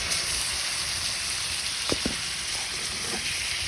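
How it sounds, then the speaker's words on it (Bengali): Magur catfish pieces sizzling in hot oil with frying onions, a dense continuous crackle and hiss close up, with a couple of faint utensil taps partway through. "এখন আমি মাছগুলো আস্তে আস্তে দিয়ে দিব"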